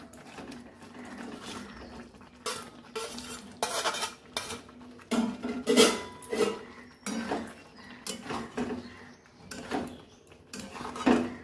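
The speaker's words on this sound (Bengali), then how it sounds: "এবার একটু পনিরটা দিয়ে আবার একটু কষবো।" Paneer is stirred into a spiced masala in a pan, making repeated close clinks and scrapes of a metal spoon against the pan in irregular bursts, with no one talking.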